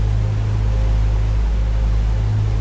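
A boat engine running at sea on the open ocean drones steadily with a deep, constant low rumble under broad wash-like noise, loud and unbroken throughout.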